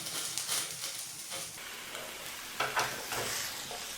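Brinjal roasting directly over a stove flame gives a close, crackly sizzle with scraping and turning sounds and a couple of sharper knocks partway through; no one speaks.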